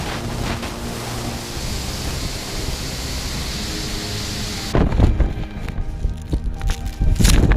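Strong wind buffets a microphone at a lake landing site in the Vercors during a paragliding descent, a steady broadband roar that turns gustier and harsher partway through, with loud thumping blasts near the end.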